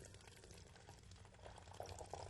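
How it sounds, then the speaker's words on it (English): Vinegar is poured slowly into a bottle, producing a quiet, close trickle and gurgle that grows slightly toward the end. "you pour vinegar into the top of your bottle"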